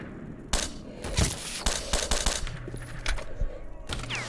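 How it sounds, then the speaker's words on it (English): Gunfire in the STALKER: Shadow of Chernobyl video game, a string of sharp shots and short bursts cracking at irregular intervals, fairly close and loud against quiet game ambience. "Somebody's shooting at me."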